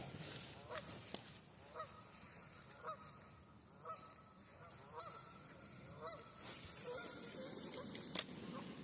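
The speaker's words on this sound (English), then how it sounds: "those geese are so noisy and disturbing" Geese honk repeatedly beside a creek during a morning of fishing, a series of nasal calls at a moderate distance over low outdoor ambience, with a louder rushing stretch near the end.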